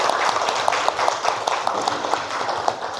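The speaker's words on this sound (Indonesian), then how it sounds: "Mari kita beri tepuk tangan untuk teman-teman kita." Classroom applause after a student group's presentation, a lively sustained patter of many hands clapping at close range throughout.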